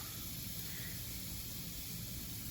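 Steady, continuous hiss and sizzle of fish fillets frying over a wood campfire, unbroken for the whole stretch, with no voices.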